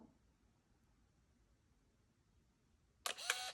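Near-silence, then a single sharp shutter click from a Pentax PG-50D film camera firing after its 10-second self-timer, with a brief mechanical whir near the end.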